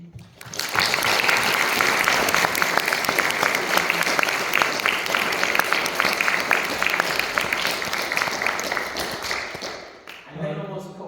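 Audience applause rises at the close of a university physics lecture by a professor, dense steady clapping from a room of listeners lasting about nine seconds before fading, followed by a brief voice.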